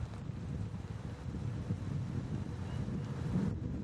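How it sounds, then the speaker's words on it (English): Strong wind gusting steadily through trees at a disc golf course, a continuous low rushing roar buffeting the microphone with no talk over it. "There's that wind you're talking about. Yeah, it's blowing pretty hard."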